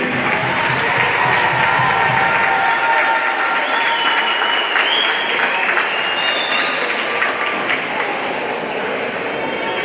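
A gym crowd at a Lady Trojans basketball game applauds the 6th district all-district team: loud, dense, sustained clapping with crowd noise and scattered cheers, close and continuous.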